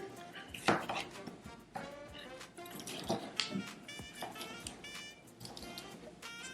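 Knife chopping a bell pepper into small cubes on a cutting board, irregular crisp knocks and taps close by, some louder strikes among lighter cuts, with faint kitchen clatter.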